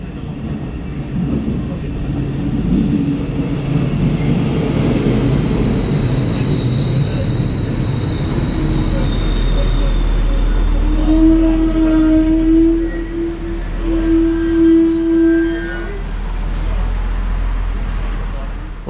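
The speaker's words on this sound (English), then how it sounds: "our train today is a Bombardier Talent, and here we can see it arriving at the S-Bahn station Berlin-Karow" A Bombardier Talent diesel regional train rolls into the S-Bahn station at Berlin-Karow, a rising rumble with squealing brake tones and a low engine drone, fairly close and steady for most of the stretch.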